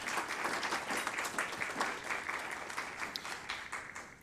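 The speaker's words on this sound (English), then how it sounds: "Let's all give them a round of applause." Sustained applause from a crowd, dense steady clapping throughout at an even, lively level with no speech over it.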